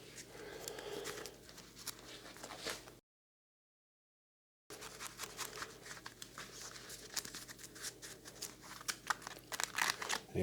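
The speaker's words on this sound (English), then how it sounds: "A bit more of a shuffle, shuffle, shuffle, shuffle. Not many cards there." A small deck of board game cards is shuffled on a table in close, crisp riffling and tapping bursts, with a brief silent gap between them.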